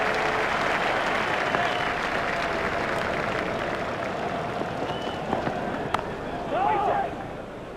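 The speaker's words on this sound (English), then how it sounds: "The crowd really enjoyed that shot." A stadium crowd at a South Africa versus Australia one-day cricket match applauds and cheers in a steady, dense wash of clapping, with a commentator speaking over it.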